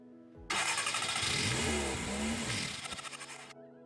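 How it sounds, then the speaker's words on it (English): A car engine cranks and catches, roaring to life at once and then settling into a steady idle, close and loud. "and start the engine"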